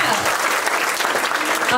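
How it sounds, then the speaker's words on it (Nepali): An outdoor crowd at a Nepali street-drama awareness event breaks into loud, sustained applause, a dense wash of close clapping from start to finish. "एकचोटि जोरदार तालीले मरिन गाउँपालिकालाई सम्मान गरौँ है त।"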